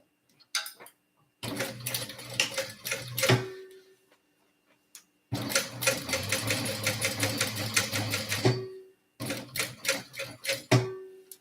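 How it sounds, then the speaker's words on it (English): A sewing machine backstitching a tote bag seam runs in three short bursts of rapid stitching, the middle burst longest, separated by quiet pauses, close and clear with no talk. "I am going to backstitch here"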